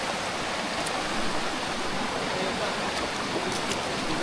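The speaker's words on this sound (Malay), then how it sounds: "Sungai lagi melintas." A river stream flowing along a mountain hiking trail, a steady broadband rush of water that stays even and continuous throughout, with no voices over it.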